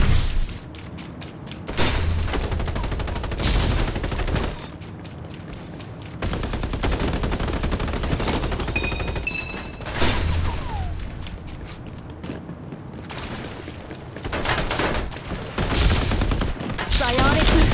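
Gunfire in the battle royale video game Farlight 84 comes as rapid bursts and fusillades with booming shots, loud and close, broken by short lulls.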